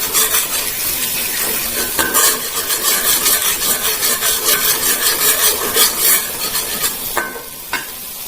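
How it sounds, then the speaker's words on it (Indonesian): Spoon stirring a freshly pounded spice paste in a frying pan for fried cassava, with a steady scraping, rubbing rhythm over a soft sizzle and occasional sharper knocks, close and fairly loud with no talking. "Aduk-aduk bumbunya sampai harum."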